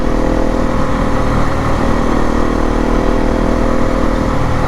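A motorcycle being ridden toward the mountains, its engine droning loudly and steadily at a constant pace from start to finish with no pauses.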